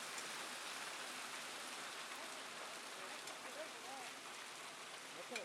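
Hail falls during a hailstorm in Mt Juliet, Tennessee, making a faint, dense, steady patter with scattered small impacts heard from a distance.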